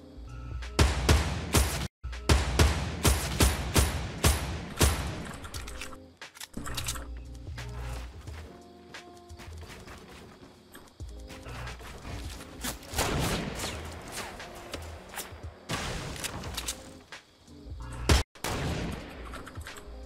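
Video game gunfire from an online shooter, dense bursts of rapid automatic fire and single sharp shots crowding the whole stretch, loud and close with brief lulls.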